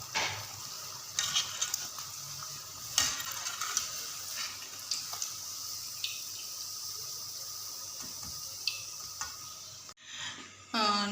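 Besan-coated naan fries in hot oil in a home kitchen, giving a continuous close sizzle with occasional bubbling pops and scraping of a utensil, ending with a brief clatter.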